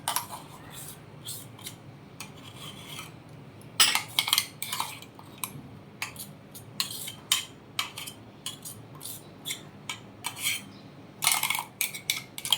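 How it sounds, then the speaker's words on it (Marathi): A spoon scraping thick, coarsely ground chutney out of a grinder jar into a vessel, with irregular clinks and scrapes of metal on metal, close by and moderately quiet over faint background noise. "हे आपण काढून घेऊया भांड्यात"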